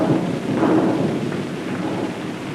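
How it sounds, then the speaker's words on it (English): Thunder during a storm, a loud, continuous low rumble rolling for a few seconds with steady rain-like noise beneath it, in a 1930 film scene with no one speaking. "Ah, thunder and lightning."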